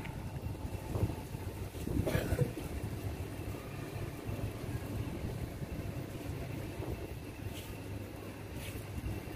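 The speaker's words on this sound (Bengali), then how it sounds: "বাতাস" Steady outdoor wind rushes across a microphone on a rainy day, a continuous low broadband roar with brief louder gusts, and no voices on top.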